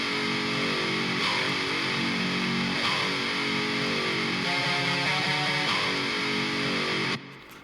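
Heavily distorted double-tracked metal guitars, panned hard left and right, play sustained power chords with a palm-muted chugging passage before cutting off abruptly.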